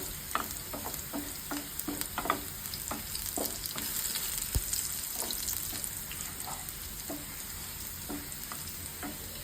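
Whole cumin seeds and onion fry in a pan with a steady, soft sizzle, broken by irregular scraping and tapping strokes from a spatula stirring throughout.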